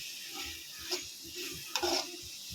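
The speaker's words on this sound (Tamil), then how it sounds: "ஓரளவுக்கு நல்லா வதக்கிக்கலாம்" Soft stirring and scraping of Indian gooseberry (amla) relish cooking down in a pan with a faint sizzle, a few sharper clinks of a utensil against the metal, no voices.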